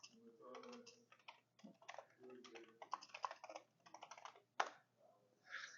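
Someone types on a Commodore 64 keyboard in irregular bursts of close, clicky keystrokes with short pauses, ending in one sharper key hit.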